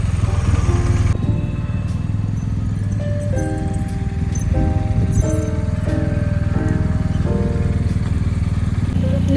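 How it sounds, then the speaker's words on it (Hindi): A motorbike engine runs steadily and fairly close throughout, with a low rumbling drone and shifting tonal revs in the middle, outdoors at a home. "बाइक की आवाज़ सुन के देखो कैसे देखती है"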